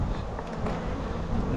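Honey bees swarm over a hive frame pulled from a nuc yard, giving a dense, steady buzzing drone that stays close and even throughout without pause.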